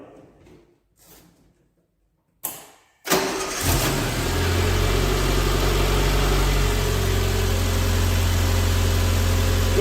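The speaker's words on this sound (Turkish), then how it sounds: "Şu şekilde de çalıştırayım ya arabayı" A car engine, after its oil has been drained and replaced with diesel for flushing, cranks over after a few quiet clicks, catches, then settles into a loud, steady idle.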